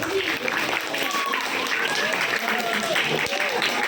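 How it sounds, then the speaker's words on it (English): Students at a school seminar on public speaking applaud together, a steady, dense wash of clapping that holds for a few seconds with voices mixed in. "Give yourself a good applause."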